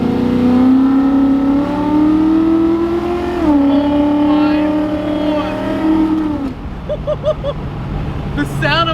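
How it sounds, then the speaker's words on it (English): A 1965 Ford Mustang with a 363 cubic-inch stroker V8 revs loudly and close, a steady deep engine roar that climbs in pitch, dips briefly, then rises again before dropping into a burbling idle with sharp blips of the throttle. "The sound of this V8 on the stroker 363 engine, wow."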